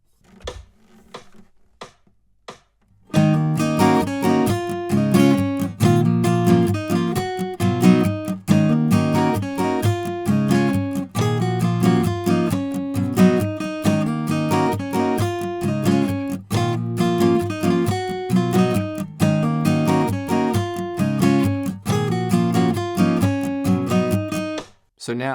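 Guitar playing the lead riff of a pop song, a few soft notes first, then a loud, busy riff over strummed chords that runs steadily to the end, close and clear.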